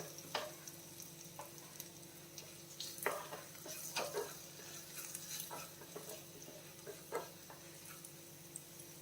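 Curry leaves fry in hot oil for a chutney tempering, with a faint sizzle and soft crackles plus a few light clicks and scrapes from a utensil, quiet and close.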